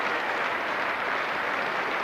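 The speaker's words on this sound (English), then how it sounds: "A generous round of applause by the Melbourne crowd for Gavaskar" Steady, dense applause from the Melbourne Cricket Ground crowd at a 1981 Australia v India Test match, a broad wash of clapping held at a constant level throughout with no voices standing out.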